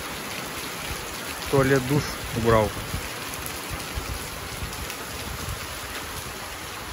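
Light rain falling outdoors by a canal, a steady soft hiss of drops under a few brief spoken words from a man nearby.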